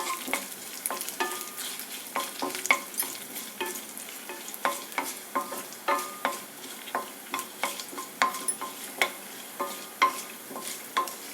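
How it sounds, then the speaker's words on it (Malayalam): Dried red chilies and curry leaves frying in hot oil with onions in a pan, a steady crackling sizzle broken by repeated sharp pops and stirring scrapes, close and fairly loud. "2-3 വറ്റൽമുളക്, ഇതൊന്ന് മൂത്ത് വരുമ്പോൾ കറിവേപ്പില ഇട്ട് കൊടുക്കാം."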